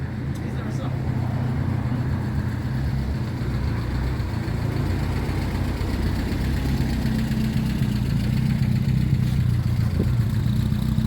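A Reliant Robin's small engine drones steadily with a low, rough idle-like rumble and faint clatter, close and continuous throughout without a break.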